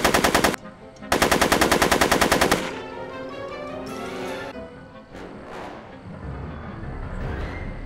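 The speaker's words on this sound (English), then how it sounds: "Are you shooting at me? Are you shooting at me?" Rapid automatic gunfire in the Back to the Future video game comes in two loud, dense bursts, the second longer, then gives way to a lower, quieter rumble of effects.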